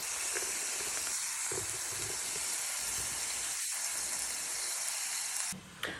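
Shrimp hiss and sizzle loudly and steadily in a hot pan while being flipped, the dense frying noise continuing close up with a brief dip near the end.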